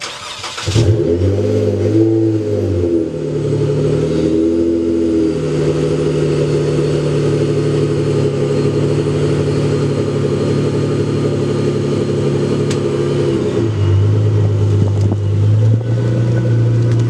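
Modified car exhaust on a steady, rumbling idle with a few sharp revs early on, then settling into a constant deep drone before a lower rise near the end, recorded close and loud for comparison with a Hemi.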